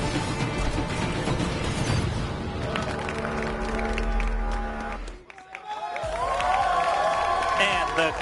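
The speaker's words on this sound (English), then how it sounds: "The crowd is going wild" An arena crowd cheers and roars at a Call of Duty Black Ops 3 esports match between OpTic Gaming and TSM, loud and dense, with announcer talk and music mixed in. It drops out briefly near the end before swelling again.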